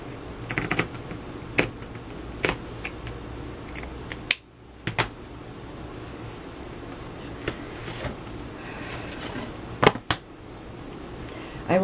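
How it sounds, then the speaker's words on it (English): Scissors snip through fabric for journal covers in a series of sharp, close cuts with uneven gaps, each crisp snap standing clear over a faint room hush. "I don't think I can tear this fabric. So I hope I'll cut it relatively straight."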